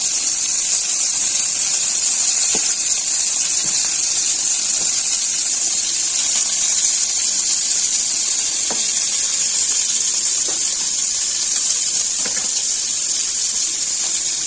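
Pointed gourd (potol) pieces frying in hot oil in a pan make a steady, loud hiss and sizzle, with a few faint clicks scattered across it.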